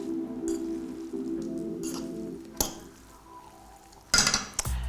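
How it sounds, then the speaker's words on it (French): Shrimp being gently folded with coriander and peanuts in a dish, Thai street-food style: soft utensil scrapes and light clinks against the dish, with a couple of sharper knocks near the end, close and fairly quiet. "Et je vais mélanger délicatement, il ne faut pas abîmer les crevettes."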